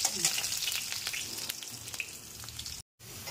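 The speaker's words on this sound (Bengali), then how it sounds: "ততক্ষণ আমাদের এখানে আলু ভাজা হচ্ছে" Potatoes fry in a pan with turmeric, giving a continuous crackling sizzle that stays fairly quiet and close throughout. The sound is cut off by a brief dropout near the end.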